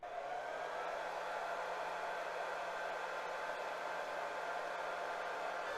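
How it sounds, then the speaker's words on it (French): A 1200-watt hair dryer on its maximum setting blows steadily with a constant whooshing hum, unchanging throughout and fairly close. "Cette fois-ci j'ai branché un autre appareil qui est un sèche-cheveux."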